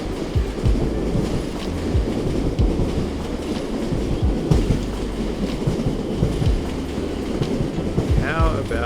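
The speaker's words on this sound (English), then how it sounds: "we've got a train going down that way." A train rolls past on the rails, a loud continuous rumble with rhythmic clickety-clack wheel thumps, plus a faint squeal near the end.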